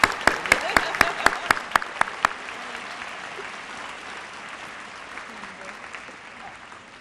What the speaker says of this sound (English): Let's give a round of applause to our 15-year service award recipients